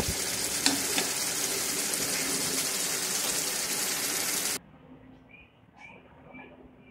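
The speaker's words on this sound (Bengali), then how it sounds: "তো আরও কিছুক্ষণ টাইম লাগবে মাংসটা কষানো হতে" Mutton sautés with spices in a pan, giving a loud, steady sizzle and stirring noise for most of the clip before cutting off abruptly to a quiet room tone.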